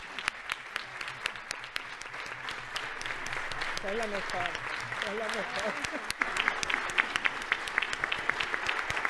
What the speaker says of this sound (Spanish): yo pienso que se merece otro aplauso más